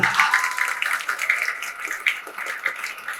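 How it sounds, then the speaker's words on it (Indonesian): Students and guests at a vocational high school graduation ceremony applaud, scattered clapping that is moderate and somewhat uneven, heard in a reverberant hall. "Tepuk tangan dulu"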